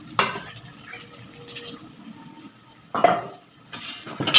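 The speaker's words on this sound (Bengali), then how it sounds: "একটু পোস্ত বাটা বাটি ধোয়া জল দেব।" Bowl-rinsing water poured into ground poppy seed paste in a pan for a bottle gourd leaf curry: a few short splashing pours and clinks of a metal bowl against cookware, close by, separated by quiet gaps.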